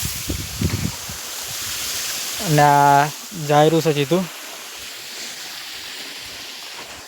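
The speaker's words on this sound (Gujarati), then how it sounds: "જોઈ શકો છો પાણી કેટલું વધારે આવવા માંડ્યું છે।" Water gushes steadily from a pump outlet into a mustard field, a constant rushing hiss throughout while someone speaks briefly midway.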